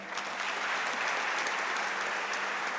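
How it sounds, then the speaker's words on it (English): Dense, steady applause from a large audience fills the whole stretch, evenly loud without pause. "So let us have big applause for both of them."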